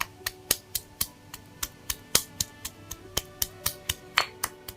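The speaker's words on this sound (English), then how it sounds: "Pound the garlic." Garlic pounded in a mortar for Thai pad kra pao with minced beef, a steady series of about sixteen sharp, close knocks at an even rhythm with no talk.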